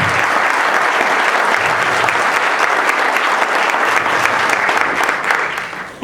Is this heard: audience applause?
yes